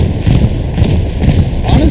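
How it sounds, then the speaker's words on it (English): Bombing-run explosions in the video game Hell Let Loose land as heavy, booming thuds that roll continuously at close range, with brief muffled impacts layered over a dense low rumble. "Bombing run comes in."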